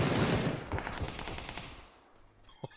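Rapid automatic gunfire in a PUBG-style battle royale video game, a loud dense burst that gradually fades, ending with one short sharp crack.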